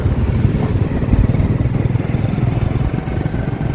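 A motorbike carries riders, a small child among them, on the way to a wedding hall, its engine droning steadily and close throughout with constant road rumble.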